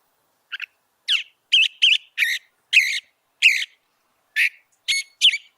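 A bird calls alone in a series of about ten short, harsh, chattering notes, evenly spaced against complete silence.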